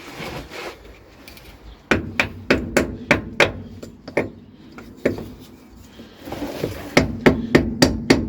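Repeated hammer strikes on a Land Rover Discovery prop shaft, sharp metallic blows in quick bursts of four to six with short pauses between, loud and close.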